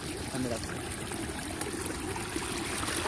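Rainwater splashes and trickles steadily over a small waterfall in Ghatkopar during a downpour, a continuous close wash of flowing water with voices faintly audible in the mix.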